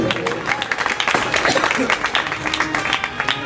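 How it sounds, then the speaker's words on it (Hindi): Audience clapping at a Shrimad Bhagavat Katha religious gathering in Agra, a steady dense patter of many hands, loud and close, with a voice speaking briefly over it. "ताली बजा दी बड़ी देख के"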